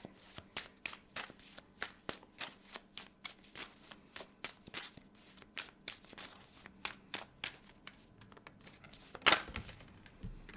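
Tarot cards are shuffled close up in a quiet room, a long run of crisp riffling flutters and soft slaps repeating in an uneven rhythm, with one sharper snap near the end.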